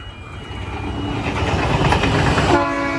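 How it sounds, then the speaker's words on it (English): A train crossing the bridge at Menangle, its rumble building steadily and loud, with a sustained horn blast sounding near the end, no voices. "we do have a train, I believe, coming over the bridge"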